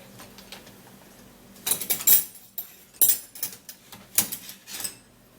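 Seeds tipped into a bowl: after a quiet start, close bursts of rattling, clinking pours and scattered clicks come in uneven clusters, with no talking.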